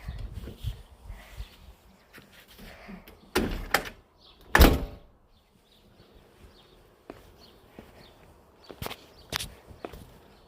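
A door is handled with distinct thuds and knocks, one loud bang near the middle and scattered clunks around it, against a quiet outdoor background with faint insect buzzing.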